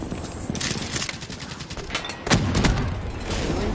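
Rapid bursts of gunfire from Black Ops 3 beta multiplayer, a dense run of shots followed by a louder cluster of heavy reports partway through, with continuous game-combat noise underneath.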